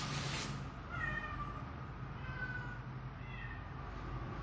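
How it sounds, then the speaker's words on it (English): Several cats meow outdoors during a Thanksgiving walk, a few faint drawn-out cries spread across the clip over steady wind and ambient noise. "them damn cats getting on my nerves"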